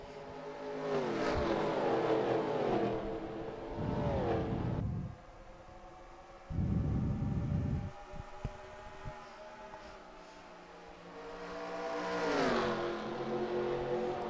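Race cars in NASCAR Racing 2003 roar past in loud surging waves, engines climbing and fading between short quieter gaps, with a commentator's voice faint underneath.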